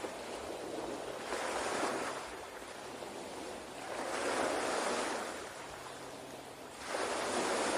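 Ocean waves rolling onto the shore in slow, regular surges, each swell rising and washing back over several seconds, a soft continuous rush with no voices.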